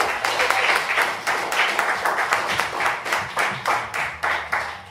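A studio audience claps for the performer Tiff the Gift, a steady burst of hand claps that settles into a rhythmic, pulsing beat, fairly close and loud, with a voice heard faintly under it.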